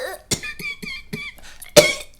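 A person coughs in several harsh bursts with throaty, wheezing breaths between them, an imitation of a shabby, bedraggled wolf wheezing and coughing, loud and close.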